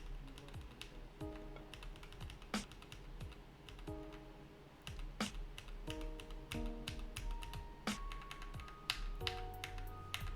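Typing on a computer keyboard while building a game in Lua: a rapid, close stream of clicking keystrokes with irregular rhythm and occasional louder taps, heard alone without talking.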